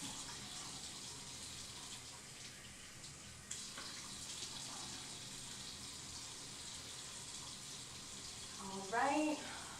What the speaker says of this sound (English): And we're just going to go in and rinse.